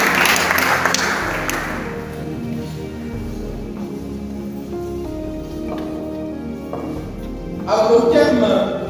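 A church congregation applauds during a French-language thanksgiving worship service: a broad wash of clapping opens the scene, gives way to sustained music, then swells again near the end.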